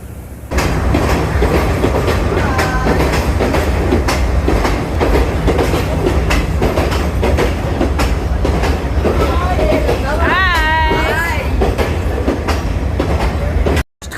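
A passenger train running between Kandy and Ella in Sri Lanka rolls along the rails with a continuous rumble and clickety-clack, close and steady, with a brief squeal of wheels partway through.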